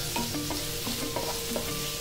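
Tomato and capsicum frying in a pan for a vegetable Manchurian gravy, with steady close sizzling and a few scraping stirs of the spatula throughout, no talking.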